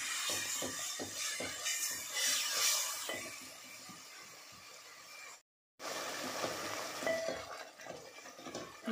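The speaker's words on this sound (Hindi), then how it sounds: "टमाटर की प्यूरी डाल के हम इसे भूनेंगे।" Tomato puree and spices fry in oil for dal makhani, with a spoon scraping and stirring the pan in repeated strokes over a soft sizzle. A brief silent break falls midway.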